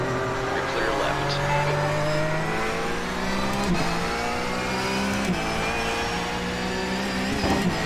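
Porsche GT3 Cup race car engine in the iRacing game at Barber, a loud continuous high engine whine rising through gears with brief shift dips, with a voice talking over it.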